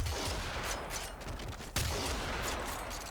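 Rapid pellet blasts from the Corinth shotgun in the game Warframe, a dense burst of gunfire filling the clip with one sharp, loud report near the middle.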